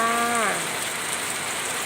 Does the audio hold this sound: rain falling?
yes